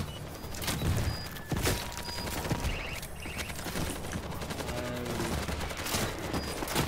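Sustained automatic gunfire in World War Z horde mode, dense overlapping shots at close range with game effects mixed in, a continuous rattling barrage throughout.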